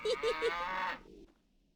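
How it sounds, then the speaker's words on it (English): A cow moos three times in quick succession and then holds one longer low bellow, close and clear, in a farmyard in The Witcher video game. "Look here, our champion cow. She gives 10 quarts of milk daily."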